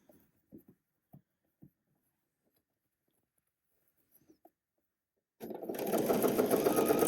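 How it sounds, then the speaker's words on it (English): A sewing machine stitches a dress seam: a few quiet handling clicks and taps give way to the machine running steadily and loudly, close by, for the last couple of seconds. "I'll sew off that bottom layer"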